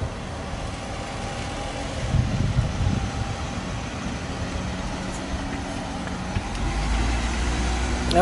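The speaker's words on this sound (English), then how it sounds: "he just sat in that truck and let the fuel run" Low, steady idle of a postal truck engine, a continuous rumble heard from nearby with a slight swell partway through and a faint voice underneath.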